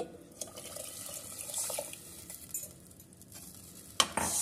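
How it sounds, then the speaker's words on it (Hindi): Water is poured into samak rice in a cooking pot, a soft splashing wash with faint metallic scrapes and a sharp clink near the end. "जितने समा के चावल थे उससे दुगना हम पानी इसमें डाल देंगे।"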